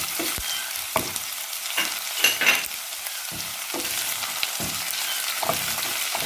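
Five green chillies fry with garlic and ginger in hot oil, a steady bright sizzle punctuated by regular spoon stirs and scrapes, heard close with no one speaking.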